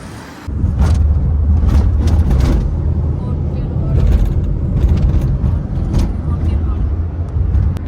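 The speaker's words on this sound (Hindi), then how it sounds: "और बहुत साउंड है गाड़ियों की" Steady road traffic roars loudly nearby, a continuous wash of passing vehicle engines and tyre noise with a person talking over it throughout.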